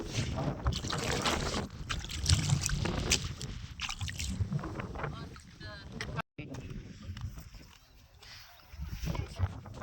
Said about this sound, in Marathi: मी हा पाय आता इथं डबक्यामध्ये पाण्याने धुवून घेते